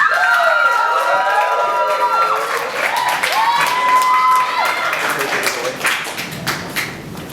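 Comedy club crowd claps and cheers for a stand-up comedian, with whoops and shouted voices rising over the applause and some sliding tonal sounds, the noise tapering toward the end.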